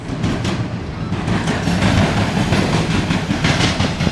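Norfolk Southern southbound mixed freight train passing close in Marion, Ohio: loud continuous rumble with rhythmic clickety-clack of wheels over rail joints, steady throughout.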